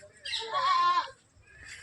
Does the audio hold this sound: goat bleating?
yes